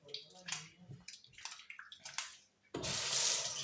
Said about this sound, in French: Après, vous rincez